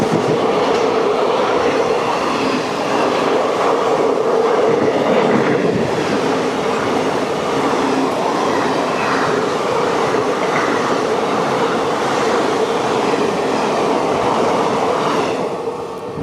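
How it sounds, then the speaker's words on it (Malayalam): WAP-4 locomotive-hauled express train passing on the opposite line, a loud close rushing roar with rhythmic wheel clatter over rail joints, continuous for the whole stretch, no voices. "ഒരു വാപ്പ് 4 ഹോൾഡ് ട്രെയിനാണ് വരുന്നത് ഓപ്പോസിറ്റ് ലൈനിൽ."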